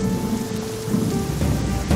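Heavy rain pours steadily, a loud close wash of drops drumming on surfaces with a deep rumble underneath, no voices.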